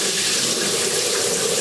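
Water runs steadily from a home shower during a hair-washing routine, a close, loud and even hiss with no break and no voices.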